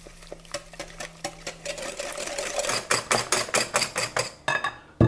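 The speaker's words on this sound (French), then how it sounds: "on rajoute le sucre aux œufs, on va fouetter tout ça" An electric mixer whisks eggs and sugar for a pound cake, a close mechanical whir with regular rapid rattling beats that grow louder and sharper toward the end, no voices.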